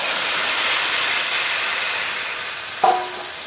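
Steady loud hissing sizzle from a hot pan of spiced potatoes, continuous and close, fading slightly before a brief sharp splash and clatter as water goes in near the end.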